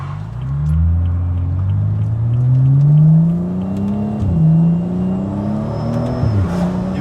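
A 2013 BMW 335i M Sport with xDrive revs hard and accelerates, its engine note climbing through several rising pulls with brief dips between shifts, loud and close with no talking.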